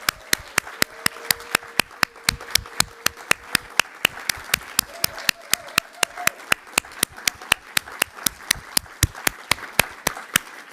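Sharp, evenly spaced claps ring out at a nursing honor society induction ceremony, a steady rhythm of single hand claps that reads as a small or remote group applauding rather than a dense crowd.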